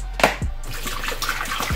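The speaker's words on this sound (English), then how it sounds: "let me get some water" Tap water pours into a container at home while a protein smoothie is prepared, beginning with a short splash, then a steady, fairly close rushing stream that fills the rest of the moment.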